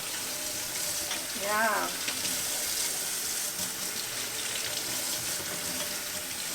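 Tap water runs steadily into a kitchen sink as celery sticks are washed, a continuous hiss throughout with a brief spoken word.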